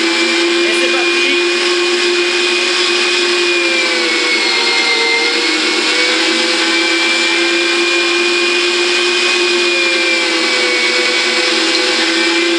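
A food processor chops meat for pâté en croûte, a loud steady motor whine with a constant high hum running unbroken and close for the whole stretch, the pitch wavering slightly as the load shifts.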